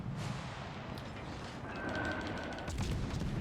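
Faint distant naval gunfire from World of Warships Legends rumbles under low background noise, with a rattle of shots in the middle of the stretch.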